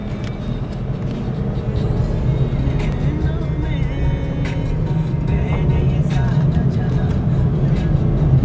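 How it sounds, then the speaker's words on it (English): A Maruti Suzuki Celerio ZXI automatic hatchback accelerates from inside the cabin, its engine droning steadily and rising slightly as the gearbox shifts on its own, with a continuous road rumble throughout. "as the speed is increasing, the gears itself are shifting automatically"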